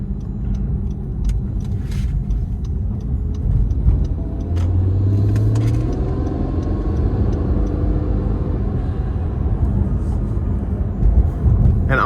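The twin-turbo V6 of a 2019 Acura NSX Sport Hybrid, mounted behind the cabin, rumbles loudly and continuously while driving, its deep engine note swelling and shifting in pitch as it pulls.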